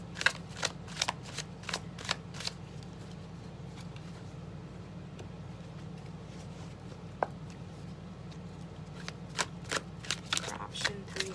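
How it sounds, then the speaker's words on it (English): Tarot cards are shuffled up close, with soft rapid riffles and flicks repeating in uneven clusters separated by a quiet gap, set against a low, steady room hum. "I started shuffling and laying out the cards"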